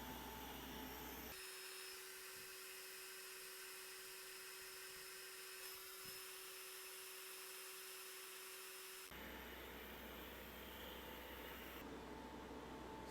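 A Longer Ray5 20W diode laser slowly cutting at 1 mm per second gives a steady, close whine with a fan-like hiss, holding a constant tone across the middle of the run.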